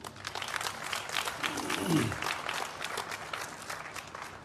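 An audience applauds at a partnership launch event, steady clapping with a dense, continuous patter that swells slightly in the middle and continues at moderate level throughout.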